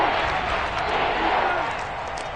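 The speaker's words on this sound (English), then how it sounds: "Crowd getting in it a bit already." Stadium crowd in an NFL football video game, a steady dense roar of cheering and noise holding level for a couple of seconds with no distinct voices on top.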